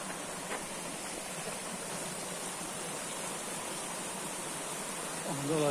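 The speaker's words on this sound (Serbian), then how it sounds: "Ovo je Kamenski potok." A continuous broadband rush of flowing water comes from the Kamenski stream below Čirča hill, steady throughout, with a voice starting briefly at the very end.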